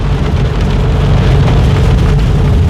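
Steady, dense rain pours down without a break at a rural home during a stormy downpour, a continuous close wash of drops drumming on surfaces with no voices.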